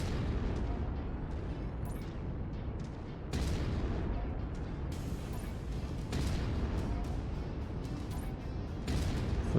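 A big gun in the MechWarrior 5 video game fires round after round into buildings, a dense, continuous roar of heavy booms and rumbling explosions with sharp blasts at intervals, loud and close with no talking.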